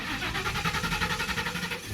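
Ford Mustang engine running rough and stuttering, with a suspected fuel pressure fault despite a new regulator; a close, pulsing idle with rhythmic uneven surges.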